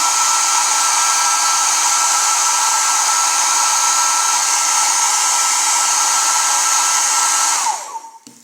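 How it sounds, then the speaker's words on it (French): A hair dryer, used to soften tubing while fitting a reverse-osmosis faucet, blows with a steady, loud whine for several seconds, then is switched off and spins down to quiet at the end. "nous ramollissons légèrement à l'aide du sèche-cheveux ou de l'eau bouillante."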